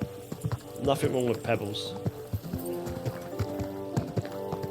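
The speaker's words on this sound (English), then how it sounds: "Get that horse under control." Horse hooves clip-clopping in the video game Kingdom Come Deliverance 2, an uneven series of close taps over background music while someone talks.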